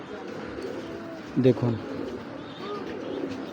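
Pigeons kept in a loft give a brief, low, throaty coo midway, heard against a steady background murmur while someone talks nearby.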